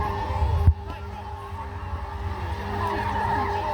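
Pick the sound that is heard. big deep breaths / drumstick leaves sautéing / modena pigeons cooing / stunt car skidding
stunt car skidding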